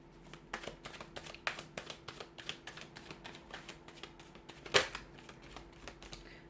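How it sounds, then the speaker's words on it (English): A deck of tarot cards shuffled by hand, a rapid run of crisp riffling flicks close to the ear, with one louder snap near the end. "we're going to give the cards a shuffle here"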